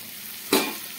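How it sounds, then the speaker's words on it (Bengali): Mushrooms with roasted gram flour and spices sizzling in a pan over a low-medium flame, with one brief scraping stir rising above the steady frying hiss; no talking. "লো টু মিডিয়াম ফ্লেমে রেখে ছাতুটাকে কষাতে থাকবো"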